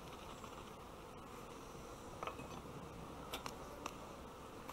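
Honeybees buzzing during a honey harvest, a faint, continuous, diffuse hum of many insects with a few brief ticks and taps, heard without speech.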